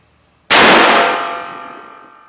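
A Stevens 301 20 gauge single-shot shotgun fires one loud, sharp blast outdoors at a target, and the report rings out and decays slowly over about two seconds.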